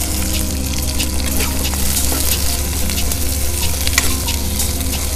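Onions sizzle loudly with ginger garlic paste in a pan for a curry of raw mango and brinjal, a dense continuous crackle with frequent stirring scrapes throughout.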